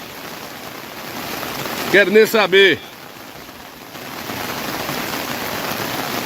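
Heavy rain pouring in the Caatinga, a steady hiss of falling water throughout, briefly interrupted by someone speaking a short phrase near the start before the downpour noise builds again.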